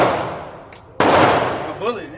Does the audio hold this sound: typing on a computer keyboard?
no